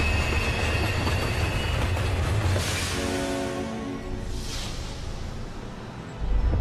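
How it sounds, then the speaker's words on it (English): A ghost train runs in the video game Earthlock, a loud rumbling rail roll with metallic wheel squeal and a rhythmic clatter that briefly thins out before the rumble surges again near the end. "Ghost train."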